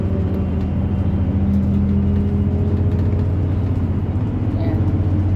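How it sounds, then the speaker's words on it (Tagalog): Interior of a moving bus with a steady low engine drone and road rumble filling the whole stretch, loud and constant, with faint indistinct voices underneath. "Nasa bus ako."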